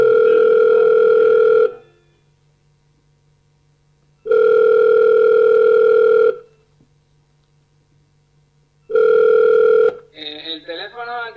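A telephone line gives the ringback tone of a call to a phone that is switched off. Three loud, steady tones of about two seconds each are separated by silent gaps, and a voice starts speaking at the end.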